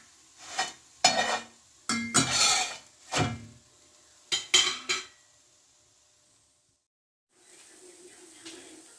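Msemen flatbread cooking in a pan and being flipped: a run of short scraping, rubbing strokes in uneven bursts, then a pause and a soft steady sizzle.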